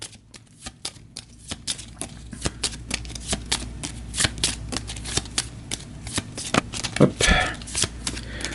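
Cards from a turn order deck being shuffled during a tabletop game of Astro Knights, a dense run of crisp riffling snaps and flicks, fairly close and steady, with no talk over it.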